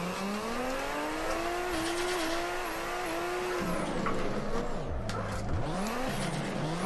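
A Nissan Skyline R32 drifts in the Assetto Corsa racing game, its engine droning and revving as a long high tire squeal runs over it, with a dip and swell in pitch as the car slides.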